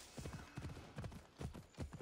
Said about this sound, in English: you go super fast with this horse